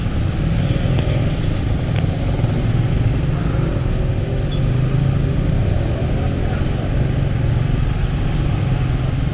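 Dense evening traffic jam on Malioboro street in Yogyakarta, with motorcycle and car engines idling and droning loudly and continuously nearby, plus muffled voices in the background.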